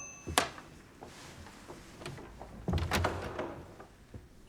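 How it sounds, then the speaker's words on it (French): An interior door in a period drama, with a sharp knock or thump near the start and a heavier door thud about midway through, quiet room tone between. "La porte!"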